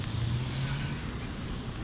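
Road traffic crawls through a jam on a street in Madinah, Saudi Arabia: a low, steady rumble of idling and slowly moving cars, close and continuous, with no one talking.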